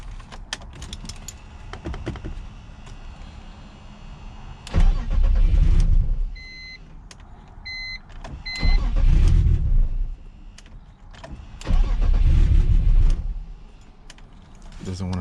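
A BMW E46 with a stage 4 clutch cranking without catching: three loud bursts of starter whirring, each a couple of seconds long, separated by quiet pauses with faint chimes and clicks.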